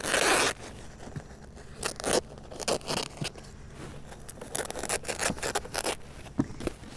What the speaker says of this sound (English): to cut my hole in the landscape fabric